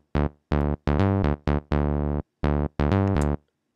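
An electro bass synth built on a sawtooth wave plays a choppy pattern of bright, buzzy, harmonically rich notes, eight or so short loud stabs with crisp gaps between them, alone and up front.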